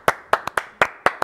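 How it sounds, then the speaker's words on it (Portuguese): Crisp hand claps on a sports news broadcast, honouring journalist Juca Kfouri: about six sharp, evenly spaced claps in just over a second, close and loud, apparently from a single person rather than a crowd. "Uma salva de palmas para Juca Kifuri."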